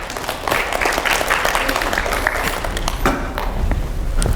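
Audience applause at a lecture on artificial intelligence, a sustained wash of clapping from many hands filling the room, fairly loud and steady with no speech over it.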